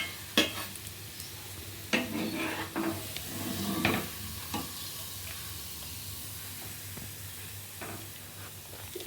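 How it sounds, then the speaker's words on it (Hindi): Semolina biscuits frying in hot oil and being lifted out, a steady sizzle with scattered scrapes and clinks of a utensil against the pan, loudest early then settling into quiet frying. "तो हमारी बिस्किट अच्छे से फ्राई हो गई है"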